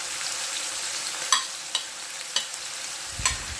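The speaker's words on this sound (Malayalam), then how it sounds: "ഇനി നമുക്ക് അരിഞ്ഞ് മഞ്ഞപ്പൊടിയും ഉപ്പും ചേർത്ത് വെച്ചിട്ടുള്ള വഴുതനങ്ങ കഷ്ണങ്ങൾ ഇതിലേക്ക് ഇട്ട് കൊടുക്കാം" Brinjal pieces coated with turmeric and salt go into hot oil with frying mustard seeds, giving a steady bright sizzle with a few sharp pops and crackles, close and without talk.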